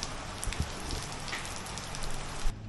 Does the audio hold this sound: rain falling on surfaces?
yes